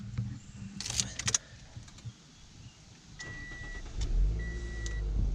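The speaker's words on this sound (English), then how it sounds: "Starts right up every time, never not started, and it's just a super reliable car." A 2011 Scion xB RS Series is started: a few clicks and knocks come first, then the engine catches and settles into a steady, close idle.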